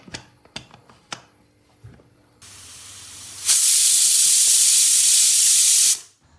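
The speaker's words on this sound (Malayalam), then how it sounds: "2 വിസിൽ വരുന്നത് വരെ നമുക്ക് ഈ ചക്കക്കുരുവിനെ വേവിച്ചെടുക്കാം." Pressure cooker holding jackfruit seeds: a few sharp clicks, then a rising hiss that bursts into a loud, steady rush of escaping steam for a couple of seconds before cutting off.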